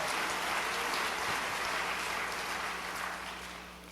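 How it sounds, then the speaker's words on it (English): At a school district convocation, an audience claps in a dense, steady wash that fades toward the end, with no voices over it. "Give yourselves a round of applause"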